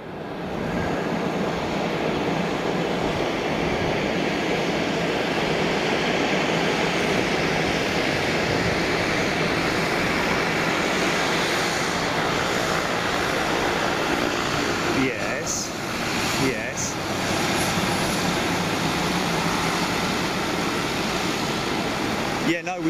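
A small propeller aircraft at Ted Stevens International Anchorage, a steady droning hum held for a long stretch at moderate loudness, with brief clicks near the end and voices talking.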